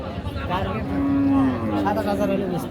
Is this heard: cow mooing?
yes